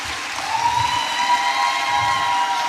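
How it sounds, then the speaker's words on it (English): Applause and cheering from an audience at a women's forum event, steady and moderately loud throughout, with a faint whistle-like tone running beneath the crowd noise. "Please, can we give them a round of applause?"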